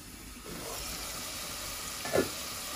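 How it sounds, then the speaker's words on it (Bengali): Onions sautéing in a pan for a Sylheti tomato khatta, a steady soft sizzle running the whole time with a brief louder stir or scrape near the end. "তো পেঁয়াজটা একটু কষা নিও"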